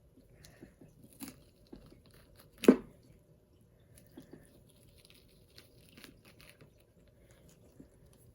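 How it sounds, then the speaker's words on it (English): Material being cut gives one sharp, crunchy tearing rip like paper, with a few faint snips and ticks before and after, close and otherwise quiet. "You can hear it tearing like paper."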